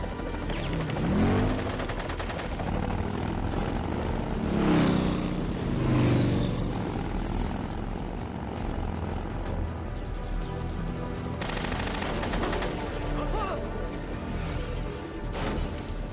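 Machine gun fire in Metal Gear Solid 3: Snake Eater, dense crackling bursts of automatic gunfire mixed with engine roar and crashes, continuous and fairly loud throughout a busy game battle.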